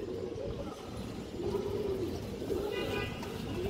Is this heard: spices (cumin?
no